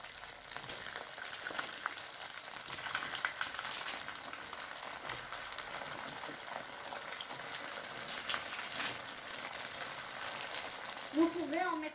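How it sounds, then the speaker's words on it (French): Churros fry in hot oil in a pan, giving a soft, steady bubbling sizzle with light crackles throughout, fairly quiet, with a faint voice near the end. "vous allez faire chauffer l'huile dans une poêle et vous allez les faire frire"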